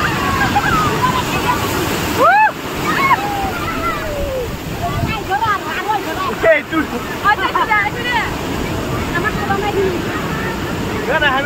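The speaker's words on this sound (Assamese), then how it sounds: "ঢৌবিলাক বহুত ডাঙৰ ডাঙৰ" Big sea waves churn and roar in a continuous loud wash at the seashore, with scattered chirping calls and voices in the background.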